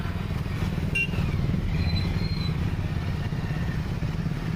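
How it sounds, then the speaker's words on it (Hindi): Motorcycle riding through neighbourhoods during a door-to-door political campaign in Banbasa, a steady low engine drone running throughout at moderate distance, with faint street clatter over it. "धामी बाइक से जनता से संपर्क करते हुए नजर आए"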